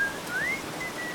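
A person whistles a few thin, brief tones, including one rising slide, in the video game Aliens: Dark Descent, set outdoors at night in a downpour, over a steady hiss of rain.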